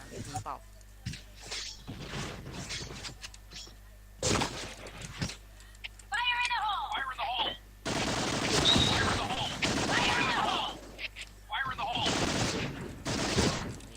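Gunfire in a first-person shooter video game: bursts of shots break out in clusters, several loud volleys over steady background game noise, with people talking and reacting throughout.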